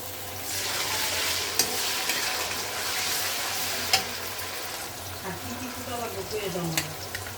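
Ginger-garlic paste fries with browned chopped onion, garam masala and bay leaf in a pan for a meat curry, giving a steady sizzle with occasional stirring clinks, while speech runs over it.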